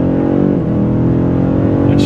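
BMW M5 CS sedan engine producing a steady, loud low-pitched drone with dense harmonics throughout, slightly rising, with a brief dip midway and a burst of higher noise at the end.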